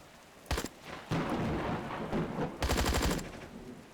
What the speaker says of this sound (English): You get hit by a frag.